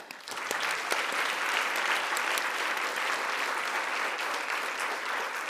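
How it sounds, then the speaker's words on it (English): A conference audience at a legal education event applauds presenters, producing a steady wash of clapping from a large crowd that holds evenly throughout, without talk. "I just want to give a round of applause to them."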